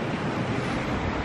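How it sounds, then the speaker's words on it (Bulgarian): Strong wind on the Norwegian Sea coast roars steadily and loudly, a dense broadband rush with buffeting at the microphone and a surf-like wash, and no voices. "от другата вятъра ми отлупва главата"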